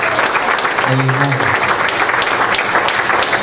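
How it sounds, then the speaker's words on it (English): Church congregation applause during a Christmas play, loud and continuous hand clapping with a brief voice calling out over it. "Can you give the Lord a good hand clap of praise?"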